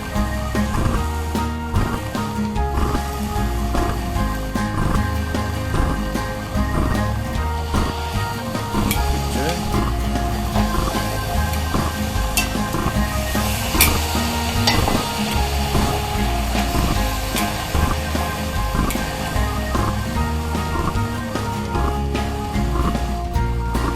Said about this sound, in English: These are the lamb shanks that have been marinated overnight. Get them in the Dutch oven and get them browned on either side.